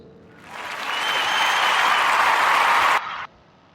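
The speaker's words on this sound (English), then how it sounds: "I did not mean to applaud that. That was an accident. I just grazed the sound effect button" Canned applause sound effect fired from a button on a podcast, a crowd clapping that swells in, holds steady and loud, then cuts off abruptly.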